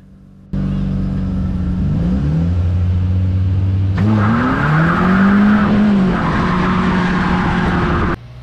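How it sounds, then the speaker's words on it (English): Race car at a standing start on the green flag, engine roaring loud and close as the rear wheels spin, pitch climbing and dipping through two bursts of revving with tire scrabble, sustained throughout without talk. "The green flag drops and I get a lot of wheel spin there"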